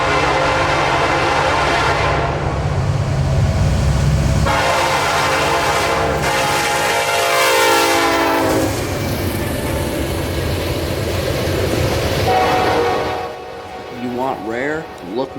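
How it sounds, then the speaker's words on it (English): A heavy loaded ethanol freight train led by two Canadian National locomotives rumbles past close by, a steady roar of rolling cars and engine with a horn sounding briefly, fading near the end. "to meet a very special loaded ethanol train headed for Tampa"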